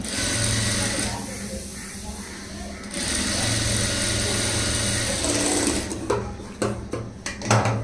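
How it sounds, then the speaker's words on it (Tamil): A sewing machine runs close and loud, putting long stitches into a front-gap blouse as a steady mechanical whir that pauses briefly, resumes, then breaks into short bursts near the end. "இதுலேயும் பெரிய தையல் வச்சுட்டு ஒரு தையல் வந்து போட்டுருங்க"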